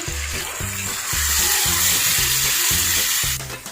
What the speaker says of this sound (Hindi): पैन में हमने 3 से 4 टेबलस्पून ऑयल डाल लिया, आप इसकी जगह पे घी भी डाल सकते हैं। तो हम इस चिकन को सारे को इसमें डाल देंगे।